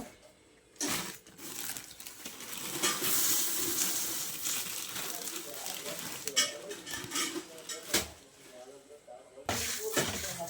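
Oil sizzles and crackles as puffed rice is tossed and stirred into hot tempering in a pan, with scraping and light clatters throughout.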